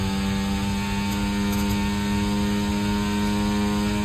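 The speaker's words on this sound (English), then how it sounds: "let's go through Eau Rouge, full throttle" Audi Formula 1 car in the F1 24 game roaring at near full throttle through Eau Rouge at Spa, a steady, loud, sustained engine drone with strong harmonic tones and no pauses.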